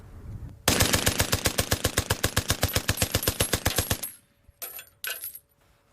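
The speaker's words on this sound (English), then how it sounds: "So despite what you hear, it's discharging around 9 bullets per second." A World War I machine gun fires a loud, close, sustained burst of rapid evenly spaced shots at roughly nine rounds a second, followed by brief clanking mechanical sounds after it stops.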